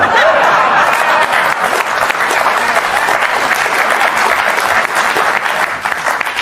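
A large crowd at a summit applauds and cheers in a dense, steady roar of clapping that stays loud and continuous from start to finish.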